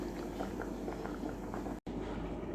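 Sambar with tamarind, okra, tomato and other vegetables boiling in a pot, a steady bubbling simmer with soft popping, close and continuous, no talking.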